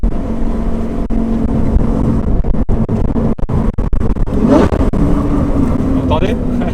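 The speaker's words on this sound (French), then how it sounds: "des fois on a des petits retours dans l'échappement qui sont assez impressionnants" A Lamborghini Gallardo Superleggera runs loud and close, its engine note broken by sharp exhaust pops and downshift throttle blips, with someone talking over it.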